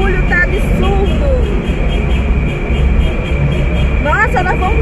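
Loud, roaring road noise fills a car passing through a tunnel during a motorcade in Niterói, a dense steady rumble with brief horn-like tones near the end.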